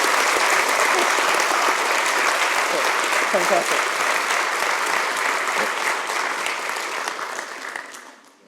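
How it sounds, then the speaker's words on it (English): Dense, loud audience applause for keynote speaker Andrew at an OWASP conference, thick continuous clapping that holds steady and then fades out over the last seconds, with a brief spoken word over it. "let's have one last round of applause for Andrew"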